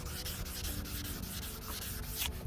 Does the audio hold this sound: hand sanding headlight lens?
yes